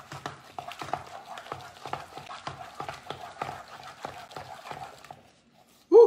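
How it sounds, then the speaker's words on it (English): Choux dough for French eclairs beaten by hand in a bowl: steady, rhythmic soft slapping strokes about twice a second, fairly quiet and close, then a short pause and one louder bump at the end. "Keep mixing."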